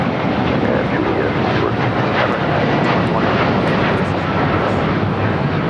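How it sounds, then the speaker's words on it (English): A United Airlines Boeing 787-9 Dreamliner takes off from LAX bound for Tokyo Narita, its jet engines producing a loud, continuous, broad roar that holds steady throughout. "This is United Airlines Flight 32 taking off to Tokyo Narita on the 787-9 Dreamliner."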